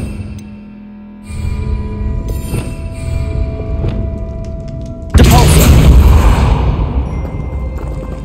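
Bombarda blasting spell from Hogwarts Legacy detonates with a sudden loud, booming explosion, then a broad roaring rumble of debris sustained for several seconds after steady low background hum.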